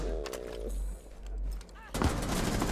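Gunfire in the video game Rainbow Six Siege, a quick burst of shots under faint game noise, followed by a louder crackling blast near the end.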